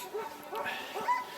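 Several sled dogs at a Norwegian winter kennel yip, whimper and give short barks in quick overlapping bursts, close by and moderately loud.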